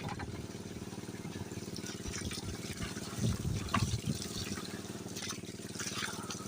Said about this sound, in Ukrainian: Зараз наберемо води. Набираємо води.